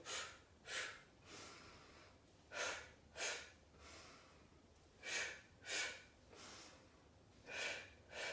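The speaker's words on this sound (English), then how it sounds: "Now use a percussive breath. As you exhale, pulse, pulse." Sharp percussive exhalations during Pilates mat exercise, puffed out in short pulses of two with brief pauses, close and fairly soft against a quiet room.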